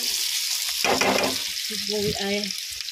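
Tomato and onion frying in a pan for dal, a steady bright sizzle throughout with a few stirring scrapes and knocks layered on top, close and fairly loud, with no talking.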